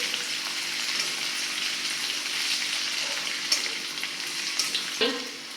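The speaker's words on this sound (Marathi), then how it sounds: "आता हे सुद्धा तेलावरती थोडं परतून घेऊयात" Pieces of gram-flour vadi fry in hot oil with garlic and chili, a steady dense sizzle under occasional stirring clinks, one sharper scrape near the end.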